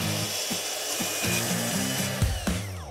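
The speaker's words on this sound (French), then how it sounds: "Scie circulaire, plongeante, sur rail, peu importe la marque." A plunge circular saw running on a guide rail cuts James Hardie composite cladding board with a loud, close, continuous buzzing whine and rhythmic pulses in its pitch, and no voices.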